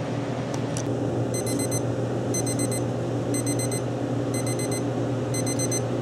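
A kitchen timer beeps in five evenly spaced bursts of rapid high chirps while spinach tarts bake. The beeping sits over a constant low hum of appliance noise.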